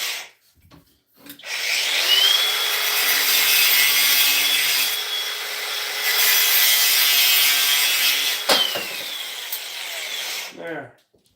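A multi-tool cuts through wood during outdoor ground work, a steady, loud buzzing rasp lasting about nine seconds with a brief pause midway, starting and stopping abruptly.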